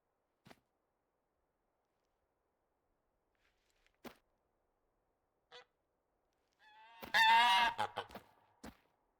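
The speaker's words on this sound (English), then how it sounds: "Oh, and we got some gray lag goose coming in." Greylag geese in theHunter: Call of the Wild giving a few scattered distant honks, then a louder burst of overlapping honking calls near the end, against near silence.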